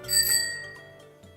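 A bicycle bell rings once as a sound effect, a bright metallic ding that rings out and slowly fades, alone with no talking.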